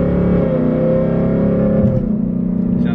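Deep, throaty exhaust rumble of a Ford Mustang with an ESS supercharger and modified Corsa exhaust, held loud and close, with the pitch shifting slightly as the revs change.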